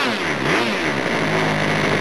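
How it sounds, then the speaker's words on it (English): A small OS 46 LA model glow engine screams close and loud as the throttle opens, a continuous buzzing rev that swells briefly and then holds high. "You can also apply the throttle."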